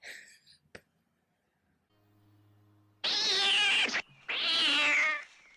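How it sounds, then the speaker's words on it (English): A cat meows twice in a 1979 horror film, two long loud close wails after a quiet stretch with a faint low hum and a sharp click. "It's just a cat. A cute little cat, too."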